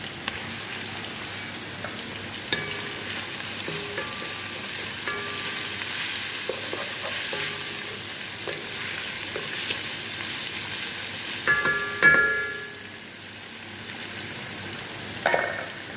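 Garlic fries in a pan during preparation of a Dubai-style meat biryani, a steady low sizzle with occasional clinks and a short louder burst near the end.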